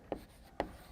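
Chalk or marker strokes on a lecture-hall board, two short separate scrapes about half a second apart, close and fairly quiet, with no talking.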